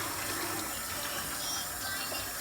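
Hands being washed under a running tap in a home kitchen while prepping rib tips, a steady broadband hiss of flowing water holding evenly for the whole stretch, fairly close and with no voices over it.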